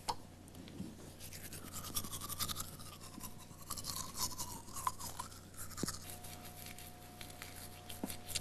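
Teeth brushed with a toothbrush and toothpaste, a rapid scrubbing swish that rises and falls in short back-and-forth strokes, close and fairly quiet, with no talk.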